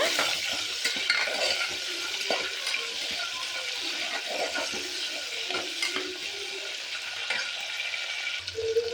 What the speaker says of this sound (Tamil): அடுத்து வெங்காயம், சின்ன வெங்காயம், அப்புறம் ஒரு 10 பல்லு பூண்டு சேர்த்துடலாம்.